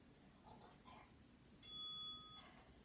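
A workout timer bell chimes once, a bright clear ding ringing out over quiet room tone during a core exercise session.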